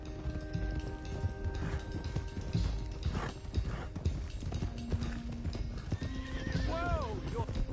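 Hooves clip-clop steadily at a trot in the video game Red Dead Redemption 2, with a horse's high whinny rising near the end over a busy background.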